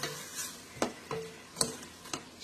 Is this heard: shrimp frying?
yes